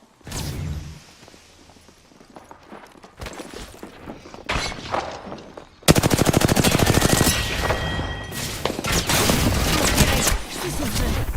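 Gunfire in the video game Apex Legends: bursts of rapid automatic shots and sharp impacts, quieter and scattered at first, then loud sustained fire with a shattering edge through the second half.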